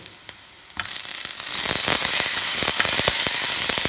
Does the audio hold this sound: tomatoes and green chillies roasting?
yes